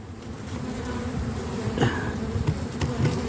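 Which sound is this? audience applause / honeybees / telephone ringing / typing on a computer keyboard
honeybees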